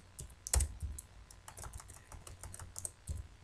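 Fingers tap on a computer keyboard in an irregular run of quick, light keystrokes, one sharper press standing out near the start, close and fairly quiet.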